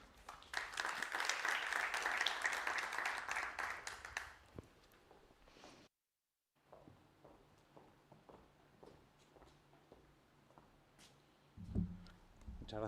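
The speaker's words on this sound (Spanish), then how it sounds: "Un aplauso." An audience at a technology forum in Valencia breaks into applause, dense clapping that fades after a few seconds, followed by a brief silence and then scattered footsteps and small knocks.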